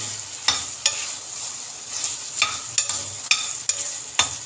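Pork sautéing in a pan for a pork and chayote dish, with a low steady sizzle and sharp spatula scrapes every half second or so, close and without voices.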